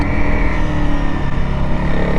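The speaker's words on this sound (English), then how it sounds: "blipping the throttle as shown here" A motorcycle engine runs loud and close in a steady throaty drone for about two seconds, as a rider blips the throttle for a rev-matched downshift.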